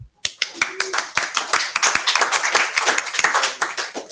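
Attendees at the close of a standards working group meeting clap, with dense, close applause from a small group of hands that keeps going steadily for several seconds.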